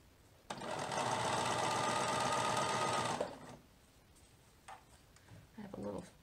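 A sewing machine runs in one loud, fast, steady burst for about three seconds while stitching a baby dress sleeve, then stops, followed by faint handling clicks and soft talk.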